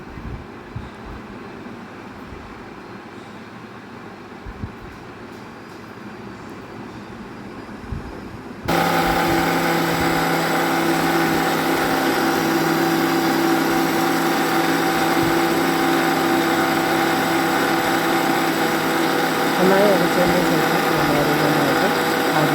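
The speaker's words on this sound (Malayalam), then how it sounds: "നന്നായിട്ട് മിക്സിയിൽ അടിച്ചെടുക്കുക" A mixer grinder blends green grapes with a glass of water, starting abruptly after a quiet stretch and then running loud and steady with a whirring motor roar until the end.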